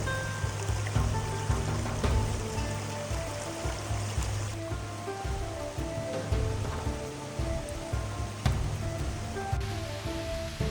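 A forest river rushes steadily downstream, a continuous broad wash of flowing water with a few sharper knocks and splashes, heard close and alone without talking.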